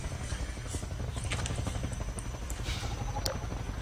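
Steady low rotor drone of a helicopter in the video game Half-Life 2, loud and continuous throughout, with faint game effects and brief high clicks layered on top.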